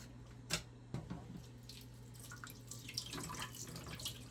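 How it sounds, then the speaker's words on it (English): Scooped-out seeds being rinsed under a running kitchen sink tap, with a couple of sharp splashes and clatters at first, then a steady close trickle and spatter of water. "just to get the extra seeds off, I rinse them."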